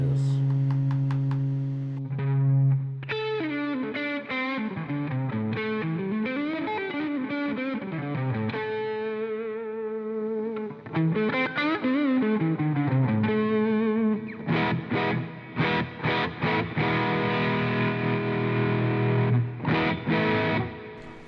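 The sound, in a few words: electric guitar played with distortion effect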